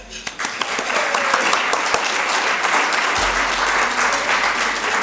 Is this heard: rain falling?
no